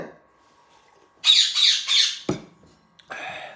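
A parrot lets out three harsh, rapid squawks in a row, then a sharp click and a final rasping squawk, loud and close.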